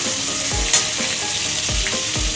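Cut tomatoes fry in a pan, a close, loud, steady sizzle with several soft low thumps of stirring at regular intervals and one brief clink, no voices.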